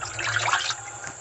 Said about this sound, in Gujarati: પાણી છે, એમાં મરચું ધોઈ લઉં